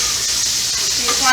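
Stir-fry coated in sweet hoisin sauce sizzles loudly in a hot pan, a steady bright hiss throughout with a faint voice underneath.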